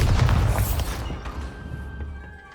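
A deep booming blast from the Bombarda spell in Hogwarts Legacy, loud at first and then rumbling away over a couple of seconds into a quieter tail.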